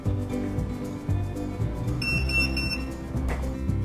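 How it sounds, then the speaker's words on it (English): A wine fridge door-open alarm gives a short, thin electronic beep that sits over a constant low buzzing hum, with faint clicks nearby. "an alarm will sound if the door is accidentally left open."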